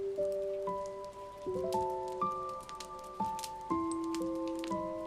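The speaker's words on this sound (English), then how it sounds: "Outside, the rain continued to fall through the ancient forest." Steady rain falls through an ancient forest, a soft continuous patter running beneath gentle, ringing melodic notes, with no voices present.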